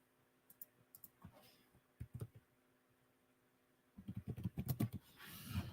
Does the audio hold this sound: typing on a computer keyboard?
yes